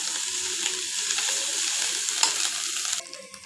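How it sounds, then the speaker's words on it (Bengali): Vigorous, close sizzling of onions and garlic frying in a pan, with light stirring scrapes, then the hiss drops off suddenly. "এগুলোকে একটু ভালোভাবে ভেজে নেব, যাতে পেঁয়াজ এবং রসুনের গন্ধটা চলে যায়।"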